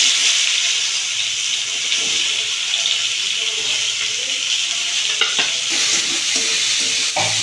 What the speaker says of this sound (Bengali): এর মধ্যে দিয়ে দেবো তেল, সরষের তেল। দিয়ে দেবো কাঁচা লঙ্কা, পেঁয়াজ কাটা।